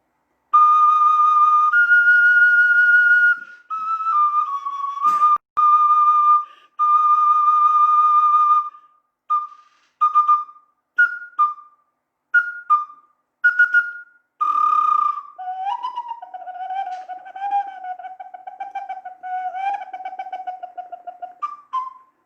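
A Kazakh saz syrnai clay whistle shaped like a bird plays clear, pure whistled tones, first long sustained notes and then a run of short blown bursts, ending in lower wavering notes, with no voices.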